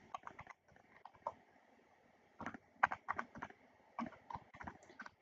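Irregular keystrokes on a computer keyboard while code is typed for an Angular project, quiet and close, in short uneven bursts with brief pauses.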